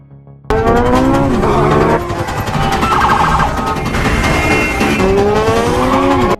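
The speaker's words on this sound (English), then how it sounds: "But the motorcycle slides." A motorcycle skids and slides with a loud, sustained tire screech that wavers in pitch for several seconds, with no voices.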